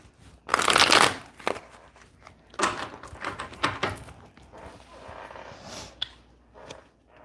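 A deck of tarot cards is shuffled up close, starting with a loud riffling burst and followed by several shorter, softer riffles and card taps, then a quieter patch.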